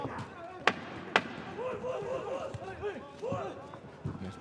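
Two sharp wooden clacks of the 10-second clapper sound at an amateur boxing bout in the men's 56 kg class at Kielce 2021, heard under a commentator's continuous talk and crowd noise.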